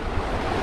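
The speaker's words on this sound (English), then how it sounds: "let me get away from the water because maybe you can't hear me as much" Water flowing through the travertine pools at Pamukkale in Denizli, Turkey, a constant broadband rushing wash close to the microphone, with a little wind noise and no voices.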